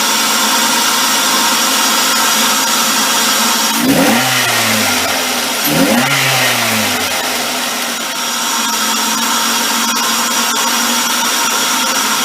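Engine of a 2005 Ford Focus fitted with an aftermarket air filter, running with a steady broadband hiss and drone, broken by two short revs that rise and fall in pitch before settling back to idle.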